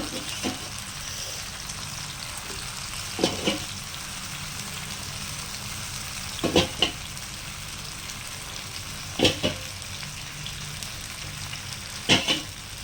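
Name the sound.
whole pomfret fish frying on a tawa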